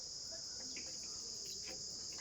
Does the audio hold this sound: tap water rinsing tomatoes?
no